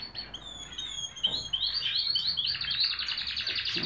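Canaries sing in an aviary, a dense chorus of bright trilling chirps and tweets that starts lighter and swells fuller and louder over the final seconds.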